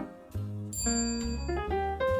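A small desk bell rings in a classroom listening game, a few bright metallic dings struck in succession, fairly clear and close.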